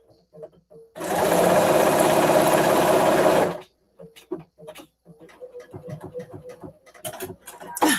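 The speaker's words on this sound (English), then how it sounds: "Love watching you sew." Sewing machine stitching quilt fabric in a home sewing session, one loud steady burst of rapid stitching for a few seconds, then quieter clicks and handling noises.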